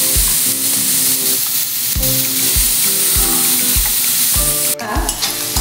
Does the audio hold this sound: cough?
no